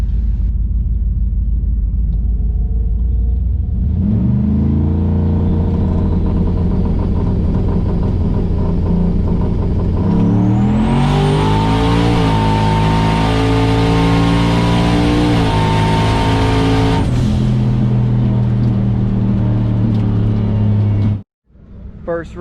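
Trucks launching in a drag race at a Truck Wars event roar loudly, an engine rising from idle into a long, climbing full-throttle run with shifting pitch before cutting off abruptly near the end; a voice is faintly audible.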